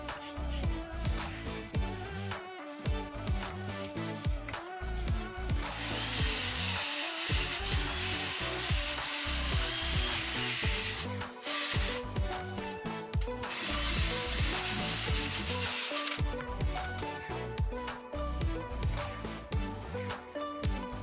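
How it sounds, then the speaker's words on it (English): A handheld power tool whirs while corrosion and muck are cleaned off a rudder bolt near the packing area of a Sea Ray Sundancer boat. The motor runs in long, continuous stretches with brief pauses, at a moderate level. "Chris is cleaning off some of the corrosion and muck that is on the bolt"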